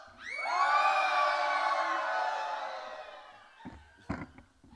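A crowd of children in a church's Christmas celebration lets out one loud sustained shout and cheer that swells and slowly fades, followed by a few scattered thumps and claps.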